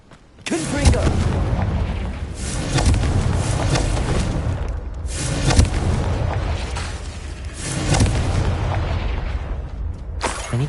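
Repeated fiery spell blasts from the Confringo curse in Hogwarts Legacy, a loud continuous barrage of booming bursts in several surges, with no speech.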